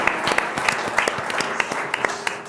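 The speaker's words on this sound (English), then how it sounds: "I want to just ask that we give a round of applause to Albert and Anijo" A room of listeners at a design talk applauds two presenters, a brisk, close run of clapping with crisp individual claps popping above the steady patter.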